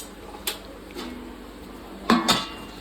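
A metal lid set onto a pot of biryani on a gas stove, heard as a light clink followed by two sharper close clatters of metal on metal in a quiet kitchen.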